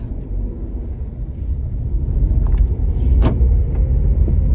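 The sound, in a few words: Renault Triber car engine starting and driving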